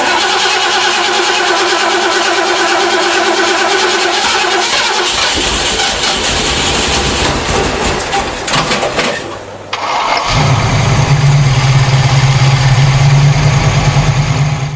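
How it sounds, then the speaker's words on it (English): An old car engine cranks repeatedly with a grinding starter churn while the pedal is pumped, then catches and settles into a loud, steady low idle, close up and with no voices. "you turn the key but you keep trying and trying, keep turning that key, pumping the pedal, keep turning, pumping,"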